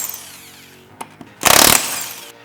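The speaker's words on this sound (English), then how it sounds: "we have our Makita Impact with the 19mm socket on the end" A Makita impact wrench fitted with a 19mm socket hammers off radius rod bolts on a Polaris RZR XP1K, one loud burst of about a third of a second after a couple of faint clicks.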